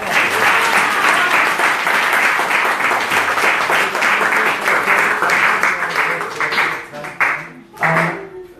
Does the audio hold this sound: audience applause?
yes